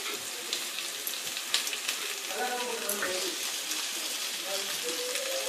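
Onions and tomato sizzle steadily in a hot pan for mint coriander chutney, a continuous close frying hiss with faint stirring, a voice speaking softly over it.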